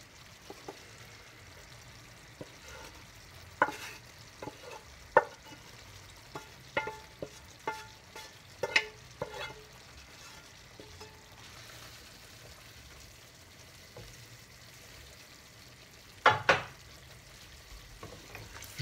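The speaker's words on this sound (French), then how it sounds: "Je remue délicatement." Mushrooms and boudin blanc gently stirred in a frying pan, a quiet background sizzle broken by scattered soft clinks and scrapes of the utensil against the pan, with no voices.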